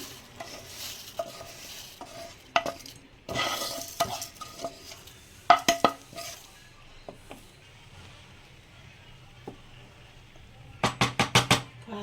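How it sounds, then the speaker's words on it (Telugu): Roasted, cooled vermicelli tipped into milk in a pot for semiya payasam, with scattered scrapes and stirs, a soft rustle, then a quick run of sharp metallic knocks near the end, close by. "సేమియా అయితే చల్లారిపోయింది ఇంకా పాలల్లో అయితే వేసేస్తున్నాం"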